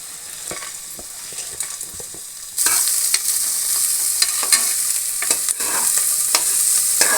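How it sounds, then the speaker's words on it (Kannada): Guntur chillies, cinnamon, cloves and peppercorns fry in a pan, giving a steady sizzle that grows louder partway through, punctuated by sharp spatula scrapes and taps against the metal, close up with no talking. "ಗುಂಟೂರು ಮೆಣಸಿನ್ಕಾಯಿ ಮತ್ತು ಚಕ್ಕೆ ಲವಂಗ ಕಾಳುಮೆಣಸು ಇಷ್ಟು ಹಾಕ್ಕೊಂಡು ಚೆನ್ನಾಗಿ ಫ್ರೈ ಮಾಡ್ಕೊಳ್ಳೋಣ"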